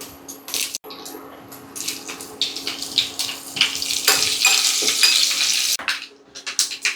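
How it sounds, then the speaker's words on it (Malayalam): Spices crackle and sizzle in hot oil while tempering for Kerala ulli theeyal, an uneven close hiss with popping bursts and a few sharp clatters. "നമുക്ക് ഇനി ഒന്ന് താളിച്ചിട്ട് വരാം ഒരു അര ടീസ്പൂൺ എണ്ണ"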